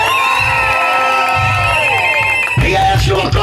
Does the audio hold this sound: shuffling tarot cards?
no